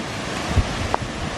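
Steady wind noise on Whitbarrow Scar buffets the microphone in a continuous roar, with a couple of brief gusty bumps rising out of the broad rushing hiss.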